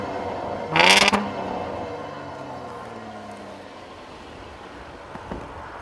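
Six-cylinder executive saloon car engine blipped once in a short, loud rev near the start, then settling back to a steady idle hum with a faint second blip near the end.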